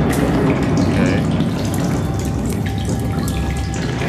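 Steady running water, like a flowing stream or tap, in The Solus Project game, loud and close with a constant splashing rush and no talking.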